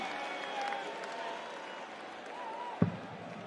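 A darts crowd in Copenhagen at a Nordic Darts Masters final applauding and cheering, a steady wash of claps and crowd noise with a sharp thump near the end.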